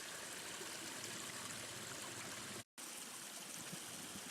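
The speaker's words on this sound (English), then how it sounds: "So I thought I'd find a little stream." A small stream in a big park on a freezing day flows with a steady, faint babbling rush, continuous apart from one brief cut to silence near the end, and no voices.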